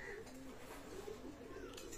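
A young Dabla pigeon cooing, soft low coos recurring faintly against a steady background hum, with a voice faintly present.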